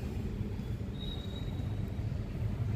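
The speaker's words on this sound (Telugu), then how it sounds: "ఇదిగోండి మెట్రో ట్రైన్ కనిపిస్తుందా మీకు" A metro train rumbles past at a distance, a low steady roar with a faint high squeal from the wheels.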